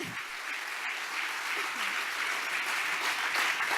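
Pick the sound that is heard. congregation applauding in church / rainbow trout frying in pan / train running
congregation applauding in church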